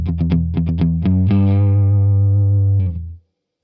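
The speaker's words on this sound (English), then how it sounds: "that's a Fender Deluxe Reverb there getting driven" An electric guitar played through a driven Fender Deluxe Reverb amp, loud and close: a fast flurry of chugged low notes, then a sustained distorted chord ringing out before stopping abruptly.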